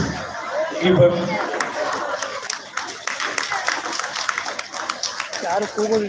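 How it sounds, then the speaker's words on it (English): An audience at a school's silver jubilee celebration breaks into applause, a dense patter of clapping mixed with scattered chatter and a few voices, continuing for several seconds. "Let us give them a round of applause on behalf of all of us"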